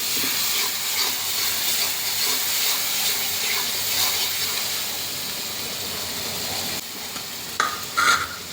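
Ginger and garlic fry in a hot pan for a Bengali loitta fish bhuna, with a loud, continuous sizzle and hiss, occasional stirring scrapes, and a few clinks near the end.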